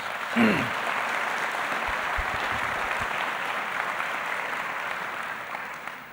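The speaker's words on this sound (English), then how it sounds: "Please give her a nice round of applause." Audience applause at a 2019 Grand Rapids Learning Center graduation ceremony, a steady dense wash of clapping that holds for the full six seconds at an even level, with a brief voice near the start.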